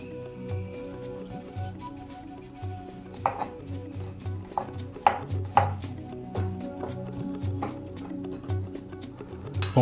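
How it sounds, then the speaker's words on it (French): Knife chopping red bell pepper into small pieces on a board, a run of sharp, close, irregular taps over a low background hum. "Maintenant, il faut le découper en tout petits morceaux également"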